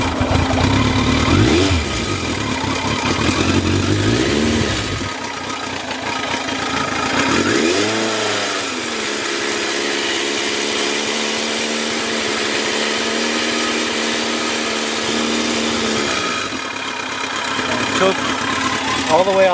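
A 1982 Yamaha Seca 650 Turbo engine cranks on the starter and catches, then settles into a steady idle off choke with a few brief revs, loud and close.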